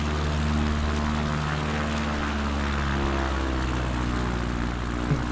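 A CubCrafters NXCub light propeller plane flies over Alaskan bear country, its engine drone steady and loud with a constant buzzing tone throughout.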